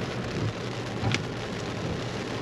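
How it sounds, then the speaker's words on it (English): Steady rain patters and hisses outside a car stuck in interstate traffic in Alabama, a soft constant wash of drops with one brief sharper tap partway through. "and it started raining"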